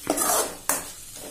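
Seasoned rice being stirred in a hot pan, with two scraping strokes of the spoon against the pan over a soft sizzle.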